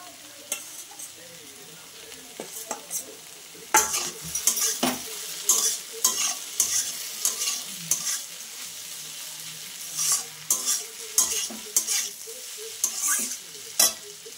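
Prawns being stir-fried with tender taro stolons in a pan: a steady sizzle broken by frequent sharp scrapes and clinks of a spatula against metal, growing busier and louder after the first few seconds, with no talking.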